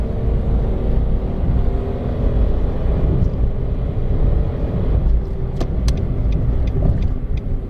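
Remapped Nissan March accelerating hard at full throttle, a loud, steady engine and road roar that holds constant throughout, with a few sharp clicks near the end.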